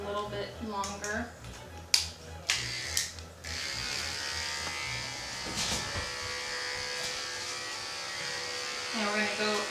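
Electric dog grooming clippers fitted with a 30 blade buzz steadily and close by as ear fur is trimmed, a constant whirring hum under a person's talking, with a few clicks before the motor settles.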